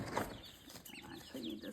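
Baby ducks and chicks on a small farm peep and cheep in a busy overlapping chorus, with brief flutters and soft rustling close by.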